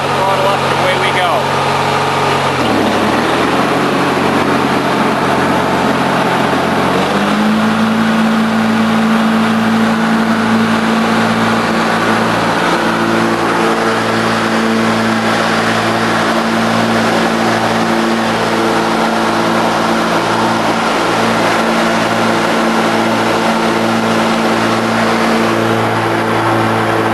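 A 1993 MTD Yard Machines riding mower engine sits at a low idle, dips briefly, then throttles up to a steady, loud, higher-pitched drone with a pulsing beat that holds through the rest.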